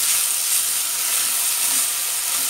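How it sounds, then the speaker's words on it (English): Vegetables and onions sizzle steadily in a hot pan for soup, a dense continuous frying hiss with the soft scrape of stirring underneath. "Give it all a good stir"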